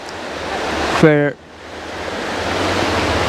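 A small river flows into a larger one at a confluence in Wicklow, making a steady, loud broadband rush of water throughout, briefly interrupted by a single spoken word.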